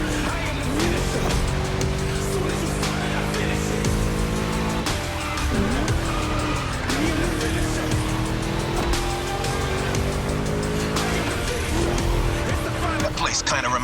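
V8 car engine racing in The Crew Motorfest on Xbox Series X: a loud, continuous roar rising through the gears, with two gear shifts, tire squeal and someone talking over it.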